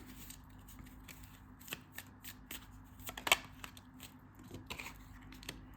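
Small angel cards being shuffled by hand, a run of soft quick riffles and flicks close up, quiet and without talk.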